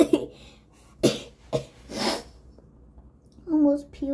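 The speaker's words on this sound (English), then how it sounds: "Sorry, guys, if I'm coughing." Several short, harsh coughs burst out one after another, close and fairly loud, with a brief voiced sound near the end.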